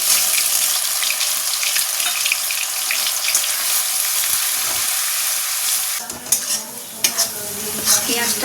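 Ground white onion paste sizzles in hot oil in a pan, a loud, steady, close frying hiss throughout, with a few clattering stirring knocks toward the end.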